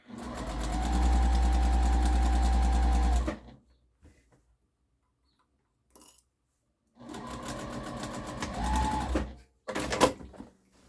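Sewing machine stitching fabric for a harvesting apron, running in two steady bursts of rapid mechanical whirring separated by quiet pauses, close and fairly loud.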